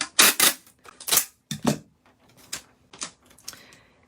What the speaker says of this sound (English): you are going to take your packing tape